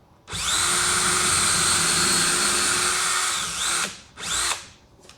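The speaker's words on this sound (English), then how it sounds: "now I'm going to drill the hole for the other screw" A power drill whines loudly and steadily for several seconds while drilling a screw hole, winds down, then gives one short final burst, close by.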